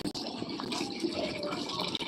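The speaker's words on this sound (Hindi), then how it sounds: "पानी भर रही हूँ।" Water gushes steadily into a bucket from a tap, a continuous close, even splashing rush that runs without pause for the whole stretch.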